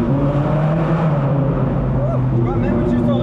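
A Lamborghini Gallardo's exhaust drones from behind at low speed, a steady deep rumble with shifting tonal bands rising slightly toward the end, heard from inside a following car.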